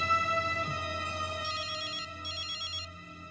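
A telephone rings with an incoming call from a hidden number, a steady electronic ringtone with a repeating tonal pattern at moderate, even volume and no talk over it.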